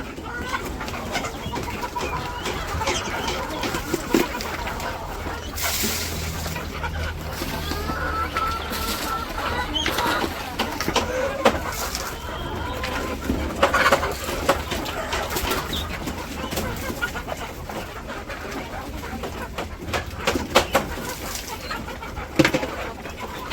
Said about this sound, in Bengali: এই ধরো কত মুরগি।